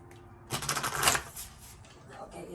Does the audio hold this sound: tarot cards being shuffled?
yes